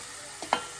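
Vegetables with green onions sautéing in a pan: a faint, steady hiss with two quick soft scraping touches of a utensil near the middle, close but quiet, without speech.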